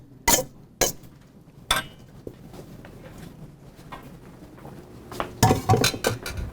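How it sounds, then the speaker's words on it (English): Metal utensil clinks and scrapes against a bowl while quinoa tabbouleh ingredients are stirred, with a few sharp knocks at the start and a cluster of clinks near the end, close and fairly loud, with no talk. "And I'll stir it up."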